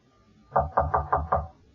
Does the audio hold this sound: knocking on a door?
yes